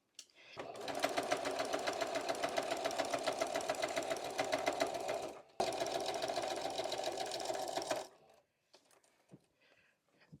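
Sewing machine stitching a 1/4 inch seam joining quilt sashing, a steady close rhythmic whir running about eight seconds with one brief pause, then stopping into near quiet.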